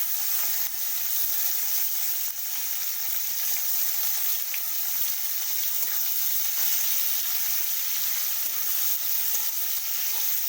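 Cabbage frying in a pan with onions already browned red, a dense, even, hissing sizzle holding steady throughout, close and moderately loud with no voices.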